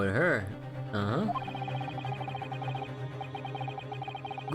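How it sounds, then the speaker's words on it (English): A mobile phone rings with a repeating electronic ringtone pattern, loud and close at first, then a steady melodic tone continuing beneath someone talking. "whoops, that's my phone, sorry"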